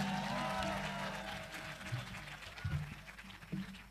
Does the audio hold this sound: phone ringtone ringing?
no